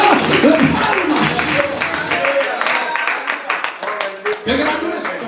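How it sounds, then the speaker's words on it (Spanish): A church congregation claps and applauds together in a steady, dense wash of hands that fills the room, loud and close, with voices mixed through the applause. "toda la iglesia que se oiga una ofrenda de palmas"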